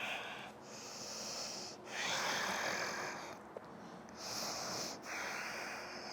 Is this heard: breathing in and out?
yes